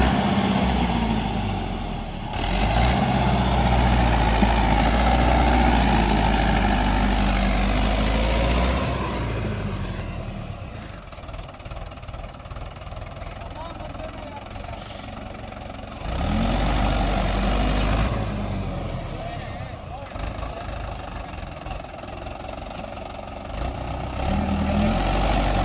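A Mahindra 585 XP Plus tractor engine runs close by for the whole stretch, a loud, low diesel drone that rises and falls as it works under load. It eases off around the middle and then swells again.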